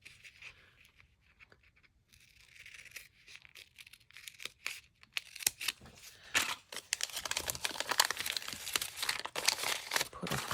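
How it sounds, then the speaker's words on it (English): Sewing notions packaging gets cut open with scissors: quiet at first, then increasingly busy close-up snips, plastic crinkling and rustling, growing louder and denser toward the end. "So I'm just going to cut this open."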